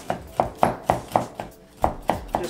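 Knife chopping nuts into smaller pieces, about nine distinct close thuds in an uneven rhythm with a short pause midway.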